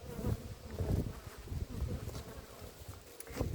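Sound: bee buzzing

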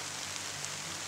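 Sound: rain falling in a forest

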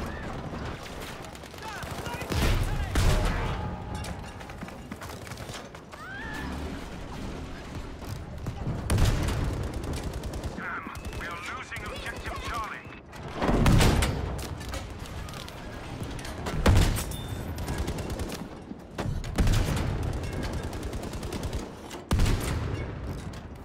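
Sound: machine gun fire in video game Battlefield V

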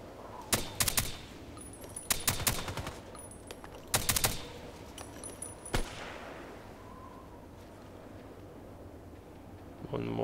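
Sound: Vintorez rifle shots in a video game

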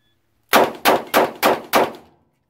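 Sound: revolver shots, Taurus 85 Ultra-Lite

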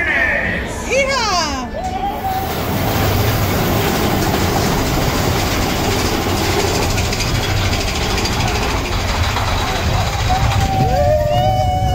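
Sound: Disney theme park mine train roller coaster ride

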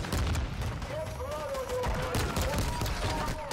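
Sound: gunfire in the video game Warzone

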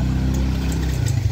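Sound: motorcycle engine running

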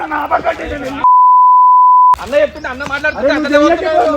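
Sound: phone tone beeping

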